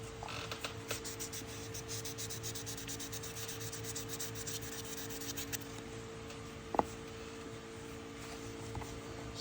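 Dry sanding the bolsters of a Case XX pocket knife by hand with fine-grit sandpaper, with oil seeping from the knife. A steady, quiet rubbing rasp runs throughout, broken by one sharp click near the end.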